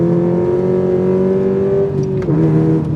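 A new Subaru BRZ with a very loud exhaust revs hard up through the gears, its engine tone rising steadily, then dipping with a quick shift before climbing again.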